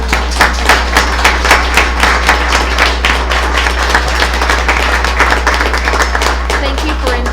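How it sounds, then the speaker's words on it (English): A school board meeting audience breaks into a round of applause, a dense, steady patter of many hands filling the room for several seconds, with a low hum underneath. "please join me in a round of applause for all that you do on behalf of students"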